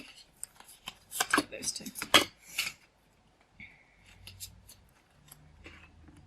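Tarot cards are shuffled and riffled in quick, crisp bursts close by, followed by softer sliding and tapping as cards are drawn and laid down, with a voice speaking briefly.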